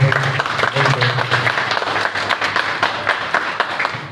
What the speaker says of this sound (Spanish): Aplausos para Aníbal, por favor, en su presentación